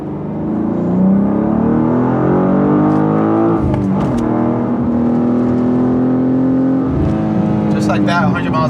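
A G87 BMW M2 accelerating hard at high speed, loud rising engine note with gear-change dips, heard from inside the car and dominating throughout.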